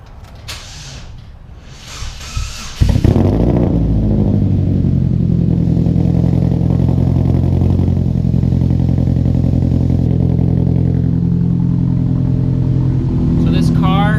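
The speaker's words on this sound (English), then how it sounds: "So let's go ahead and fire this thing up." A Porsche GT3 engine, running on a weak 11.8-volt battery and smoking slightly, cranks briefly, catches with a loud burst around three seconds in, then settles into a steady, rumbling idle that continues to the end.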